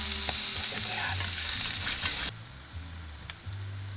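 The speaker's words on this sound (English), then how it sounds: "That's previously cooked cauliflower. And I'm going to fry that up." Previously cooked cauliflower frying in a pan over a campfire, a loud close hiss and sizzle with stirring scrapes that suddenly drops to a quieter crackle partway through.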